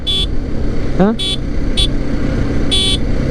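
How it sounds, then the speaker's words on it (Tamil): A short, bright horn toot from a BMW G310GS BS6 motorcycle sounds a few times over a steady idling engine rumble, close by, with a brief rising chirp in between. "ஸோ இந்த ஹார்ன் வந்து கொஞ்சம் வண்டிக்கு ஏற்ற மாதிரி இல்லை"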